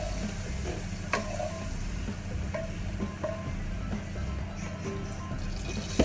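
Prawns with lemongrass, bird's eye chilli and kaffir lime leaves frying in hot oil in a wok, a steady close sizzle with a few light clinks and taps of stirring scattered through it.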